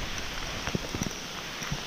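Steady rain falling outdoors near a pond, a dense continuous hiss with a few distinct close drops tapping on a surface.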